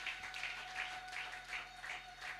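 A church congregation gives rhythmic applause after a call to acclaim, with soft clapping swelling in regular pulses, faint and steady throughout.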